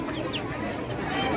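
Chickens at a Vietnamese market day pet and animal market give short clucks, mixed into a steady bed of crowd bustle and nearby chatter.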